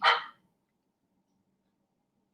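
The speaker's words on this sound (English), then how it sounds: "He barks at everything." One sharp dog bark, fairly close, followed by near silence.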